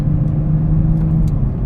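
Steady low road and engine drone inside a 2021 Toyota Supra cruising at normal speed through a residential neighborhood, a constant muffled hum with a few faint light ticks, no one talking.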